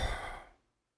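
A narrator's voice imitates a wounded creature breathing heavily, a single long, breathy exhale that fades out within half a second, close and fairly quiet.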